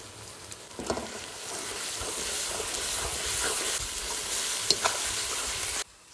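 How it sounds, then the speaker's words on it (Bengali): Cumin and coriander fry with dried and fresh green chillies in a pan, making a loud continuous sizzle with occasional stirring scrapes and pops, then cutting off abruptly. "জিরে আর ধনে তো ভাজা হয়ে গেছে। এবার দেবো শুকনো লঙ্কা আর কাঁচা লঙ্কা।"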